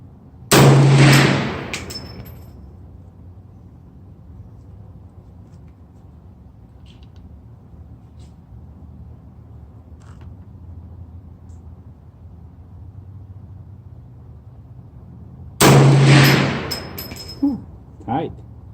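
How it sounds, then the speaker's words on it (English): Two loud, booming rifle shots from an AR-15 chambered in 450 Bushmaster, fired outdoors at a range target, spaced about fifteen seconds apart, each followed by a long echoing tail, with quieter background noise in between. "next I'll be shooting 450 bushmaster on the center upper target."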